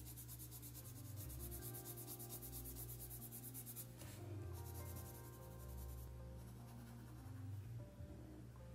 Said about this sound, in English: I thought it would be fun to kind of shade this in with the sketching color